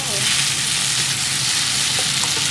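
Pad thai made with kale stir-fries in a hot pan, giving a loud, dense, continuous sizzle with faint stirring movement throughout.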